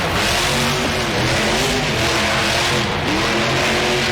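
A monster truck engine in the BeamNG.Drive game revs hard and steadily during a freestyle run in an Anaheim, California arena, loud and continuous without a break.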